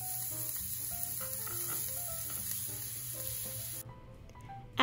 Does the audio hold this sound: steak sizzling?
yes